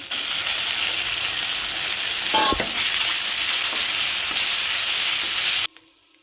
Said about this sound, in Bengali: এবার বেটে রাখা পেঁয়াজ একটা দিয়ে দিচ্ছি